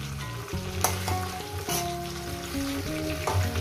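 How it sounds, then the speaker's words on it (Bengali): Katla fish head frying in hot oil, a dense continuous sizzle with occasional pops and spatters, close and fairly loud, with no voices. "মাথাটা ভাজা হচ্ছে"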